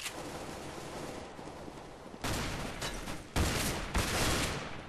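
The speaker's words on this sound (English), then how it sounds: "Wow, that shotgun actually hit me." Shotgun blasts in a Counter-Strike: Global Offensive casual match: two sharp, loud broadband shots land about a second apart over steady game noise, with a third burst just before them.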